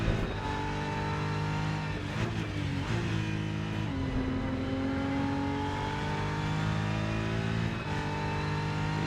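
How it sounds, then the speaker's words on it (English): A race car engine in the Rennsport racing video game drones loud and continuous, with its pitch sliding down and climbing again as the car coasts through a corner and then accelerates back onto the throttle. "Gonna let the car roll around this corner without any gas. Back on the pedal."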